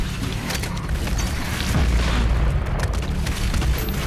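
Sticky bomb explosions in the video game Doom Eternal, a deep booming blast with rumbling low-end swelling midway through, set among continuous game combat noise.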